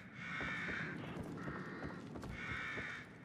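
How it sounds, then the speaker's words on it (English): Crows in the horror video game The Evil Within give three drawn-out caws over a continuous ambient background, with a short gap between each call. "I can hear crows."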